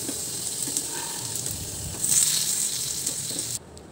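Potato pieces frying in hot oil in a kadai give a steady close sizzle and hiss that swells briefly louder before cutting off abruptly.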